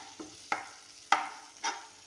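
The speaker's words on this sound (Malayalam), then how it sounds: "ഇളക്കി വരട്ടെ." Chicken curry with chilli powder roasts in a pan, stirred in four distinct scraping strokes over a quiet, steady sizzle.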